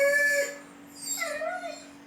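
A recording of a dog crying plays from a TV or phone speaker: whimpering, howl-like wails rise and fall over a steady electrical hum, heard twice in quick succession.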